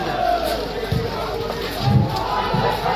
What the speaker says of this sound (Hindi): समर्थकों की भीड़ दोनों तरफ से है।